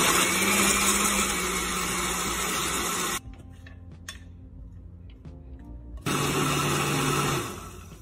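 Blender pureeing beans with peppers and onions, a loud whirring motor that runs for about three seconds, cuts off briefly, then starts again before easing down.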